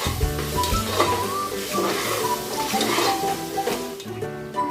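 A paste of chilli, ginger and garlic is stirred into sautéed onions in a hot pan, with continuous sizzling under repeated scraping and clinking of a utensil against the pan, close and fairly loud.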